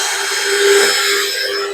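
A drill spins a long attachment piece to scrub a greenhouse, giving a close, loud, steady whirring buzz with a rubbing, scraping texture throughout.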